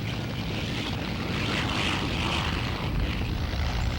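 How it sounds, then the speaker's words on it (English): Propeller-driven Spitfire and Hurricane fighter aircraft of the RAF drone steadily in flight, a continuous broadband engine roar mixed with rushing wind noise, fairly loud and unbroken throughout, with no voices. "Spitfires and Hurricane fighters are dispatched with speed and accuracy."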